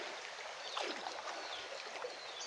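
Floodwater rushing steadily through a flooded home garden after long heavy rain, a continuous broadband wash of flowing, churning water close by with small splashes and no voices.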